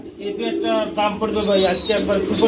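Pigeon chicks at a pigeon sale make short, soft chirping and cooing calls close by, mixed with people talking.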